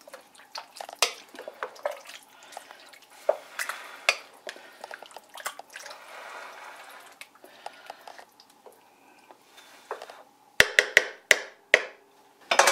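Liquid poured over onions and meat in a pot for goulash with red pepper, with soft splashing and dripping plus scattered clinks of kitchenware, ending in a burst of sharp clattering taps near the close.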